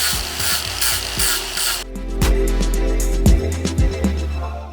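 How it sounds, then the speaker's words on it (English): An angle grinder smooths the points of a wooden heart, giving a close, loud abrasive whir with rough scraping bursts, then cutting out and returning in short grinding passes. "This is my husband's angle grinder, and it made really quick work of smoothing out the points around the heart."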